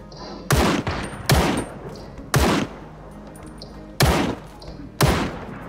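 Five separate gunshots ring out in Ring of Elysium (ROE), sharp and loud with short decaying tails, spaced irregularly about a second apart, with faint game ambience and no talking between shots.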